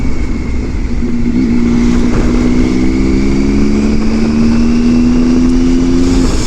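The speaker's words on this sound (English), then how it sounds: "we will keep an eye open for some log trucks, and there's one right there" A heavy log truck passes close by on a road, its engine droning loud and steady with a slowly rising pitch, no talking.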